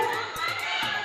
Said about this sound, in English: you hear the crowd cheering on their countrywoman